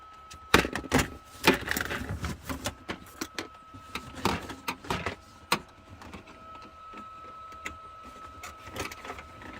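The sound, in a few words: screwdriver removing bottom screws from truck heater panel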